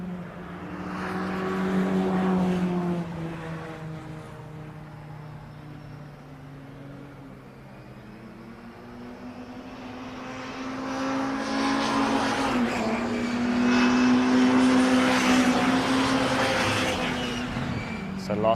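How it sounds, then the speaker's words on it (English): MG Cup race cars pass during qualifying at Oulton Park, with engines swelling and fading in long drawn-out passes while a commentator talks over the sound. "last few cars coming over."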